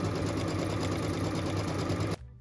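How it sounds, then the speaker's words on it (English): An embroidery sewing machine stitching a batting placement line onto stabilizer, its fast, even mechanical chatter running loud and close before cutting off abruptly near the end. "we're going to start our project by stitching our batting placement line"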